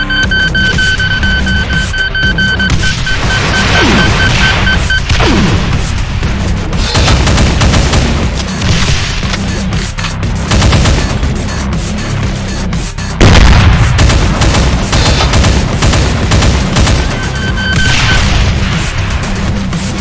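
Commando variant enemy in a Doom mod firing regular rockets, revolving homing rockets and volleys of three micro rockets, heard as a dense, loud barrage of booms and blasts with rumbling explosions throughout and no talk.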